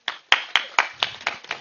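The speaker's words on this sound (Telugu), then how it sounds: "ఈయన గట్టిగా క్లాప్స్ కొట్టండి" An audience claps in a short run of about eight sharp, evenly spaced claps, close and fairly loud, with no speech.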